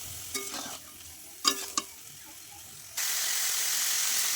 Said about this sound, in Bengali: একটু জল দিয়ে মশলাটার মধ্যে এই সবজিগুলোর সাথে একটু কষাতে হবে।